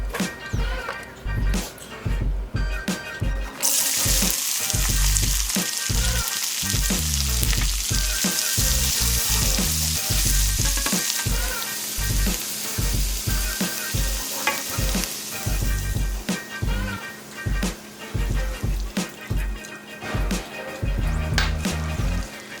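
Sixteen ounces of liquid egg whites cook in a hot pan, hissing and sizzling steadily while a utensil repeatedly clacks and scrapes against the pan in an uneven rhythm.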